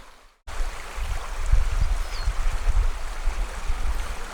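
Water flows steadily in a low, continuous rushing murmur, close and fairly loud, from a stream beside the Ravenglass and Eskdale Railway, starting abruptly after a brief quiet moment.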